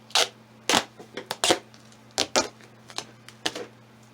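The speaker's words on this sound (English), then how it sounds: "this is the hardest part with the stupid duct tape" Duct tape being pulled off the roll and wrapped around a plastic milk jug to seal it: a series of sharp, close ripping and crackling bursts, irregularly spaced over a faint steady hum, with no voices.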